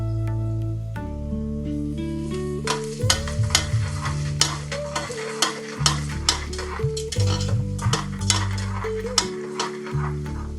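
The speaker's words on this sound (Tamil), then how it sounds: "வெங்காயம் இப்படி லேசாக பொரிஞ்சா போதும்." Onions sizzle in a pan with a pinch of salt while a spatula stirs them, adding repeated scraping clicks and taps to the constant frying hiss, with music playing underneath.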